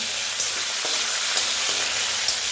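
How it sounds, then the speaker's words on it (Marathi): Dried Byadgi chillies sauté in hot oil in a pan for a red chilli chutney, giving a steady close sizzle and crackle with faint stirring scrapes and no voices. "माझ्याकडे इथं बेडगी मिरची आहे ती ॲड करते ती सुद्धा व्यवस्थित परतून घ्यायची"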